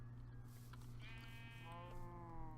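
A cow in the Minecraft modpack Project Ozone Lite gives a drawn-out, wavering animal call, one long bleat-like moo over a steady low game hum, with no talk.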